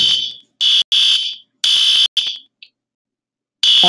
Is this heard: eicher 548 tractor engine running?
no